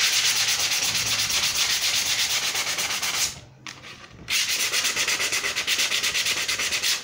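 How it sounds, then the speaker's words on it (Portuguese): Sandpaper rubs rhythmically over glued paper on a fake cake, steady rapid back-and-forth scratching close up, pausing briefly midway before resuming at the same pace. "Dê uma lixada para poder tirar esse lustre que ficou."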